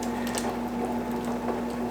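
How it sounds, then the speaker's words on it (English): A pot of Jamaican red bean soup heats toward a boil, giving a dense, steady hiss and fizz of rising bubbles with no breaks, over a constant low hum. "So make this go and bubble."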